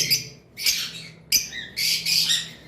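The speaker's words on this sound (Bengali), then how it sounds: "তারপর এইখানে এক পেয়ার লাভ বার্ড রয়েছে অ্যালমিনো একটা রেড আই একটা ব্ল্যাক আই" A pair of lovebirds, one albino with red eyes and one with black eyes, gives several loud, harsh squawks and chirps in short bursts with brief pauses between, close by and alone.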